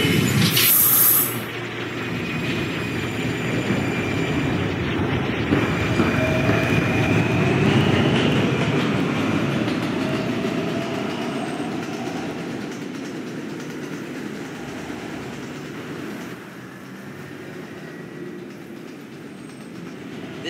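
A subway E train rumbles and hisses along the tracks for a long stretch, loud at first and gradually easing as it runs, with faint clatter.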